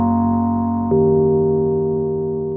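Roland S-1 synthesizer playing a preset patch: a sustained bright harmonic tone that jumps to a new held pitch partway through, loud and clean with no talk.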